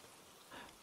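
Steady hiss of rain falling in Minecraft, a soft continuous wash with a slight swell partway through, heard alone without talk.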